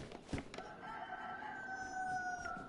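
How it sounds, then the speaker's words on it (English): A rooster crows in a long, drawn-out call in the video game DayZ, moderately distant and clear, after a couple of brief thumps. "Hello, chicken."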